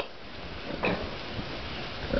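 Pig grunting at a farm pen in Rovensko, a few rough low grunts over steady background noise with no talk.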